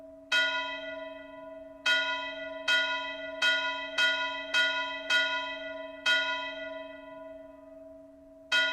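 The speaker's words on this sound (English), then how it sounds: "maybe I want this bell to go like ring faster." A game-audio bell sound effect with long reverb strikes in an irregular pattern that speeds up, each clear chime ringing out and decaying, alone and fairly loud.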